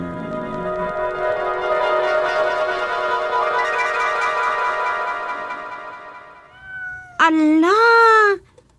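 A cat gives a loud, close, drawn-out meow near the end, preceded by a long sustained tonal sound.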